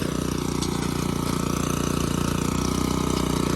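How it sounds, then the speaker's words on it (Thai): A small single-cylinder, four-stroke, 4-horsepower Mitsubishi MMR4 walking tractor engine runs at a steady idle nearby, its rapid chugging pulses even and continuous. "คันนี้ก็เครื่องยนต์ 4 จังหวะ4แรงเอาทดกำลังค่ะ"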